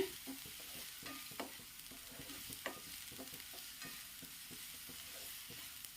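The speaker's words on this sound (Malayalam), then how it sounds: "ഈ സവാളയിൽ ആ വെള്ളമയം മാറുന്നത് വരെ നല്ലതുപോലെ ഒന്ന് വഴറ്റിയെടുത്ത ശേഷം" Sliced onion sautés in a pan for a spinach thoran, giving a steady soft sizzle with repeated scraping stirs and small clatters from the spoon throughout. No talking.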